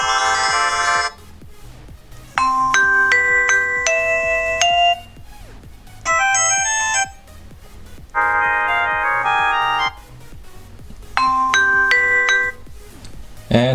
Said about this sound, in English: notification tone